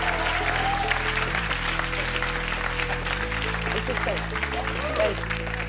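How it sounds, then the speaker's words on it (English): Audience applause at an award ceremony for a comedy Changemaker of the Year presentation, a steady dense wash of clapping throughout with voices and low music tones mixed underneath. "Big round of applause, guys."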